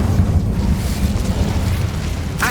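A roaring fiery burst from an Incendio spell cast in Hogwarts Legacy against spiders, a loud continuous whooshing blaze held throughout with a sharp crackle at the end.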